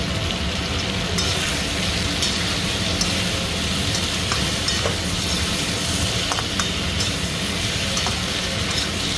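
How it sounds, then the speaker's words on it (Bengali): Tomato with chilli powder and cumin-coriander powder fries in a pan with loud, close, continuous sizzling and repeated scraping stirs, with no talk. "মশলা টমেটো সব ভাজা হয়ে গেছে"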